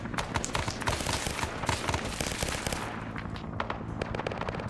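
Heavy gunfire in the video game Arma during a jungle battle, with dense rapid bursts of automatic fire and scattered shots, some near and some farther off, running continuously.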